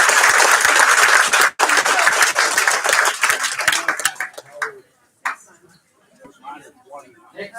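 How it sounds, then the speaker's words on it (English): Loud applause from a crowd at a school board meeting fills the first few seconds, then fades into scattered claps and murmuring voices. "One more round of applause."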